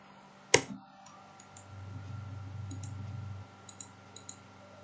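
One sharp computer mouse click stands out near the start while drawing in AutoCAD, followed by a stretch of low hum and a few faint ticks close by.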